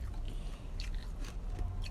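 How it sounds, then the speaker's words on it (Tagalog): Close biting and chewing of a small bread roll, soft crunches over a steady background hum, with no talking. "Unang kagat, kalahati agad."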